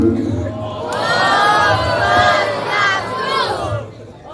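An audience cheers and shouts for Balinese performers, with loud whoops and crowd noise that swell and then fade toward the end.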